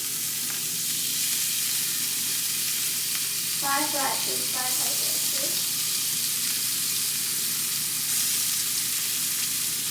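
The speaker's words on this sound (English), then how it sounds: "I like to slice the bacon in half before I start frying it" Steady sizzling and crackling of bacon frying in a pan, continuous under a brief spoken remark.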